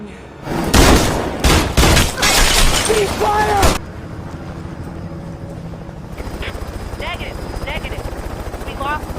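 Gunshots ring out in a scene from the 2018 action film Peppermint, a rapid run of loud cracks with crashing impacts for about three seconds, then a lower, steady rumble.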